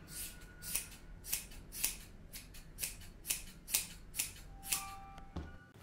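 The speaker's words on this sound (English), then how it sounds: "we are going to cut the excess yarn on the outskirts" Scissors snip excess yarn from the outside of a fluffy pom pom, about a dozen crisp cuts in a steady rhythm, close and fairly quiet with no talking.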